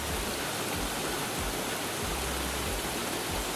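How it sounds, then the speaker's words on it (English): River water gushes through a rock formation in rural Smithville, Clarendon, Jamaica, making a steady broadband rushing roar with no clear pauses, close by and continuous. "The water gush through the rock formation and create a pleasing river sound."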